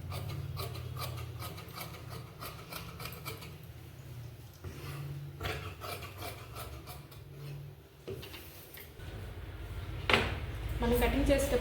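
Scissors cutting fabric lining at a tailoring class: close rasping and rubbing strokes of the blades through cloth, repeating irregularly under a low hum while someone talks.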